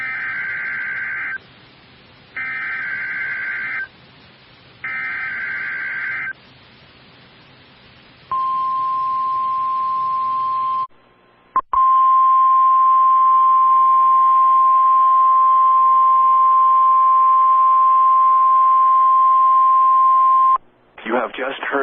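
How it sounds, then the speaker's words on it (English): A National Weather Service radio warning alarm test: several short loud two-tone bursts separated by gaps, then a long continuous steady tone lasting about nine seconds before cutting off. "You have just heard a test of the National Weather Service radio warning alarm feature."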